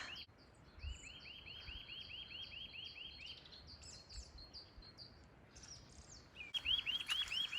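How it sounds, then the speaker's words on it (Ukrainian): Repeated high chirping bird calls ring out on a mountainside in the Carpathians of Zakarpattia, Ukraine, a quiet outdoor setting, with a brighter burst of rapid trills near the end. "послухайте, як пташки співають на горі"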